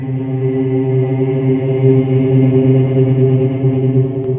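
A sustained, droning tone with stable stacked harmonics and a slight grainy shimmer, a granular synth pad at low density, steady and fairly loud throughout.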